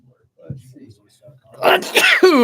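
A single sharp sneeze up close, followed right away by a person speaking.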